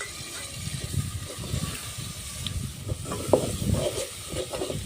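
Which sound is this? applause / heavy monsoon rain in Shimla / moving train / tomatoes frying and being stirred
tomatoes frying and being stirred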